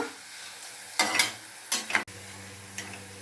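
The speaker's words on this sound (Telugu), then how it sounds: "ఒక్క నిమిషంలో వేగిపోయిద్దండి ఇదిగండి తురుము వేగిపోయిందండి" Grated potato shreds sizzle and crackle in hot oil, with a steady low frying hiss broken by a few louder stirring bursts near the pan.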